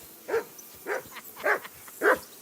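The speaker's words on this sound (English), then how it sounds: "Get that mutt of yours to stop barking, will you?" A dog barks four times at an even pace in Kingdom Come: Deliverance II, moderately close and clear, each bark short and separated by brief pauses, with no talk over it.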